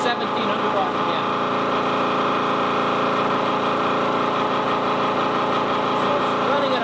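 A loaded wound rotor induction motor runs at about 1700 RPM, giving a steady, even hum and whine throughout with no change in level.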